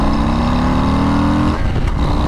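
A 2022 Harley-Davidson Low Rider S engine pulls hard under acceleration on a twisty road, a loud, steady rising drone that drops off briefly as the throttle shifts.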